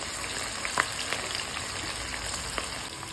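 Onions sizzle and fry steadily in a pan until browning, a continuous soft crackle with a few sharper pops, fairly close and with no talking.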